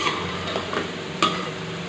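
Okra (bhindi) frying in a pan for a bhindi gosht dish, giving a steady soft sizzle with a few light stirring scrapes and one sharper clink partway through, close and alone.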